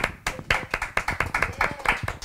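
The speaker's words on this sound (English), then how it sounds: "I love that you're clapping." Someone claps their hands in a fast, steady run of sharp, close claps, about a dozen in a couple of seconds, with a faint voice briefly underneath.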